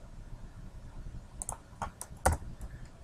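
Typing on a computer keyboard while entering a value in drawing software, a short burst of light, quiet key clicks that builds to one sharper tap near the end, with no speech.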